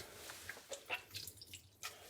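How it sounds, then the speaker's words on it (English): Excess water squeezed from a wet cat's fur after a bucket bath falls in small, irregular drips and splashes, faint and close by. "So we're gonna squeeze her all out here. Squeeze all that excess water."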